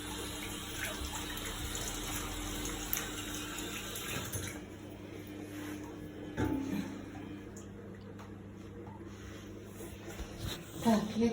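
A Samsung WF1700WRW washing machine filling with water on its daily program: water runs steadily and then eases off, with clicks and knocks toward the end and a voice speaking in the background.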